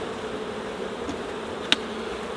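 Bees hum steadily around a hive infested with small hive beetles, a faint continuous drone with one brief sharp tick partway through.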